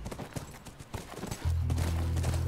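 Rapid clip-clop of horse hooves at a canter in the video game The Last of Us, fairly close, then a low droning tone swells in underneath as the hoofbeats continue.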